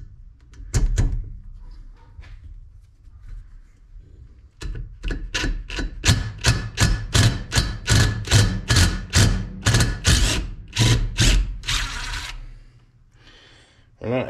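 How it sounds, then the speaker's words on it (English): An impact wrench spins an easy-out extractor in a drilled-out bolt: a brief burst of hammering, then a long, loud rattle of rapid blows lasting several seconds, up close. "I drilled it out some more and I put my easy out in there on the impact, and I think it's moving"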